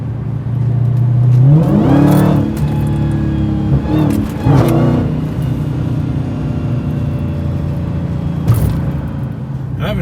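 A Dodge Challenger Redeye or Ford Mustang GT500 accelerating hard: loud, close engine revs climb in two sharp surges, then settle into a steady powerful drone.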